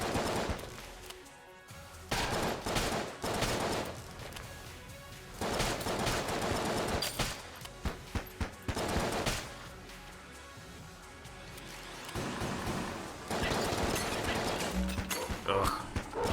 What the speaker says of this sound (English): Corsair shot lands, I feel like it does an explosion or something